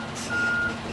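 Truck backing up with its reversing alarm emitting a steady high-pitched beep tone over a broadband idling-engine rumble, during a North American Standard Level I commercial vehicle inspection.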